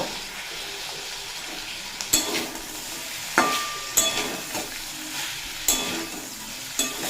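Potatoes and ivy gourd (kundru) fry in a pan with a steady close sizzle, broken by several sharp clacks and scrapes as the vegetables are stirred and tossed.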